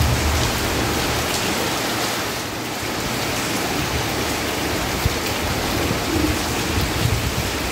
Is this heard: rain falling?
yes